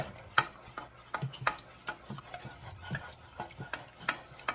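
A spoon stirring melting butter in a pot on the stovetop: faint, irregular scraping taps against the pot, with a light sizzle underneath.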